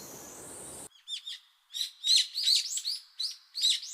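A budgerigar kept as a pet chirps in quick, bright twittering bursts close by after a brief stretch of hiss, then chatters in repeated short phrases with small gaps between them.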